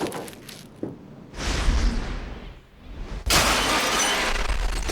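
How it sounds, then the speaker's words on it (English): Glass shattering as a film special effect, staged to burst outward in an expanding circle on a movie set: a loud crash with a rushing whoosh, then a second, fuller burst of breaking glass that carries on to the end. "We wanted the glass to explode in sort of an ever-expanding circle"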